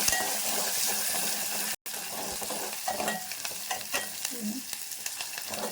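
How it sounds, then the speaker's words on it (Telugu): Curry leaves, coriander and green chillies fry in hot oil for a tamarind masala vada curry. The sizzle is loud and continuous with stirring scrapes, broken once by a brief silent gap. "కరివేపాకు వేస్తున్నాను అలాగే కొత్తిమీర వేస్తున్నాను పచ్చిమిర్చి కూడా వేసుకున్నామండి ఇది కొద్దిగా వేగనిస్తాము"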